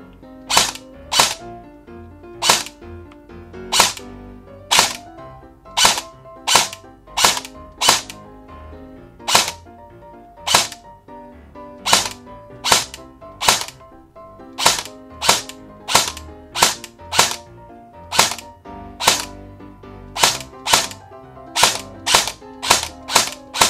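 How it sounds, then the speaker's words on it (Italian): An airsoft rifle fires sharp single shots after a motor adjustment, loud and close, in a steady series of about forty cracks with short, slightly uneven gaps and no talking. "è importante ascoltare bene il suono che fa il fucile"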